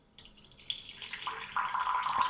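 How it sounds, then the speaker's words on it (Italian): An Ecoviva Mate4 reverse osmosis purifier dispenses water into a glass, a close trickle whose pitch rises steadily as the glass fills over about two seconds, with no talk. "E come possiamo vedere, l'acqua viene immediatamente erogata"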